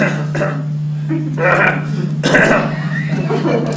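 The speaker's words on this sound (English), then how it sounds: "no, just a little cough." A person gives a short, throaty cough, with a couple of rough bursts over a steady low hum.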